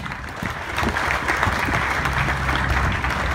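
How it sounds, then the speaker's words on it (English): A church congregation claps together in praise, a loud, close, continuous roar of hands that holds steady throughout. "Give a mighty hand clap to the Lord."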